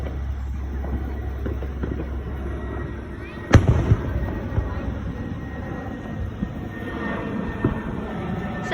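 Fireworks going off on the 4th of July in the Roblox game Bloxburg: one sharp pop stands out midway, followed by scattered fainter crackles over a steady low background hum.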